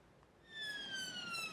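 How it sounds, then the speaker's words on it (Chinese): An ambulance siren sounds on a London street, its sweeping electronic wail rising in after a quiet start and holding steady at moderate distance. "伦敦的街仔路一直听到救护车伫咧等"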